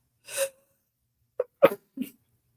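A single person sneezes close by after a short breathy intake, followed by a few quick sniffs and breaths in an otherwise quiet room.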